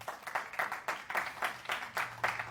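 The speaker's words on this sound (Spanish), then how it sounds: "Alguien puede darle un aplauso al Señor" Church congregation clapping in bursts of rhythmic, unison claps at moderate distance, with a faint voice underneath.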